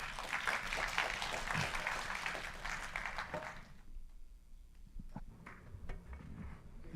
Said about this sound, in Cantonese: 依家我哋用熱烈掌聲歡迎 Brett 我哋嘅講員 Brett